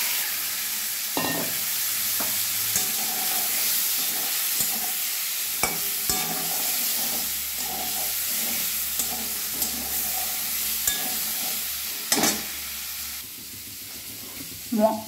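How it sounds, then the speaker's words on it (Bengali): Potatoes and papaya frying in leftover egg-frying oil, a steady sizzle with intermittent stirring scrapes and clinks of a utensil in the pan, close and continuous throughout. "ডিম ভাজার তেলে আমি আলু পেঁপেগুলো খুব ভালোভাবে ভেজে নেব"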